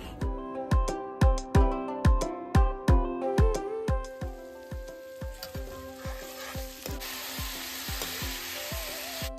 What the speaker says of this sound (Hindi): मैंने यहाँ पर घी में सूजी को भूना अच्छे से